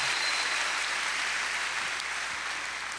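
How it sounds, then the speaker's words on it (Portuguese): Brief burst of audience applause at a church gathering, a dense wash of clapping from a large crowd that holds steady and fades slightly toward the end. "Uma salva de palmas para o time da nova geração."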